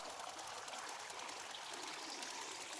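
Water pours steadily from a tea machine in the video game Wanderstop, a continuous close trickling stream with no pauses and no voices over it.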